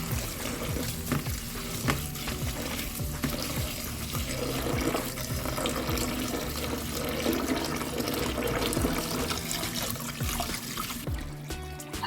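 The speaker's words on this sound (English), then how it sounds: "the water is pretty cloudy, and that is the salt being rinsed off of the sea moss" Running water from a tap splashes and trickles continuously into a container of sea moss being rinsed of salt, a steady close wash of flowing and sloshing water with no talking.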